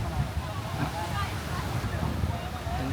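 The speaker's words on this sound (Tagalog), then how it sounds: "Sobrang hangin dito, hindi ko alam kung maririnig niyo ako." Steady roaring wind buffets the microphone, a constant low rumble with broadband rush and no pauses, like standing in a strong gale on an open beach, at Bulabog Beach, Boracay, with kiteboarders.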